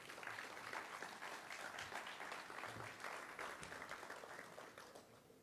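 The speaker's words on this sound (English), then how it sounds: "Please join me in giving all of the San Antonio Airport team a big round of applause." Crowd applause for the San Antonio Airport team at a celebration of a first nonstop flight, a continuous, even roar of many hands clapping, fairly distant and quiet, holding steady before easing slightly at the end.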